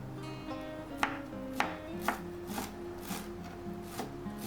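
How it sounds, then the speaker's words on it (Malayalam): A knife chops parsley finely on a board for a Lebanese tabbouleh salad, with soft, evenly spaced cuts about every half second over a quiet background. "ഈ പാഴ്സലി നല്ലതുപോലെ ചെറുതായിട്ട് അരിഞ്ഞെടുക്കണം."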